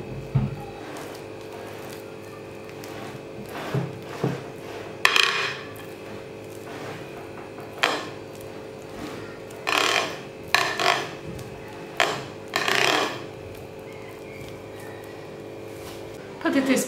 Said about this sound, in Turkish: Şöyle yayıyorum kaşıkla. İyice köftenin üzerini kapatacağım.